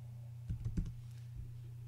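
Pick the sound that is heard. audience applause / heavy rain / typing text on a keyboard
typing text on a keyboard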